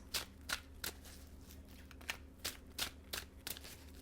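Tarot cards are shuffled in a quiet room, giving a run of about a dozen short, crisp riffling bursts in an uneven rhythm, close and fairly soft.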